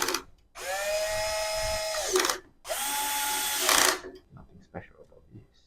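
A power drill drives screws during assembly of a standing desk: two sustained whirring bursts, each about one and a half seconds long, ring out up close, followed by faint handling clicks and brief talk.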